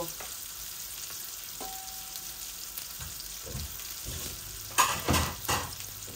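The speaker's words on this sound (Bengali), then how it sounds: "আর একটু পেঁয়াজ ভাজা ভাজা হোক, তারপর আমি মশলাগুলা দিয়ে দিব।" Onions frying in oil in a pan, a steady soft sizzle throughout with bursts of louder stirring and scraping toward the end, close and alone without talk.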